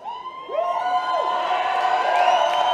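A wrestling event crowd cheering and whooping with rising shouts, loud and sustained over a couple of seconds, several voices swelling together.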